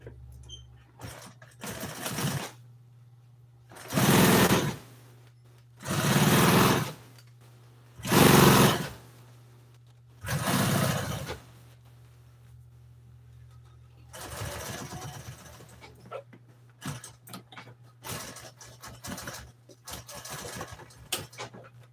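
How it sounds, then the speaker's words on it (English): Sewing machine stitching boxing sides onto an old Toyota seat cover, four loud close bursts of stitching with short pauses between them, then quieter handling sounds and light taps over a low hum. "Sew these on."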